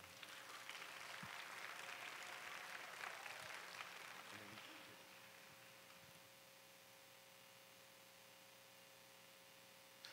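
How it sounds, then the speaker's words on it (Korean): Church event audience at a Culture Night applauds to welcome a pastor, a dense crowd clapping that is loud for the first few seconds, then thins and fades to a faint tail. "큰 박수로 환영해 주시기 바랍니다."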